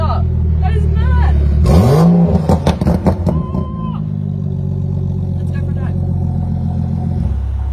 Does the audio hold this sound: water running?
no